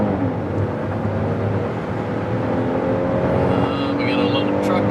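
A 2022 Hyundai Palisade Calligraphy AWD with 291 horsepower accelerates in sport mode on the highway, its engine a steady loud drone mixed with road and wind noise, rising slightly toward the end.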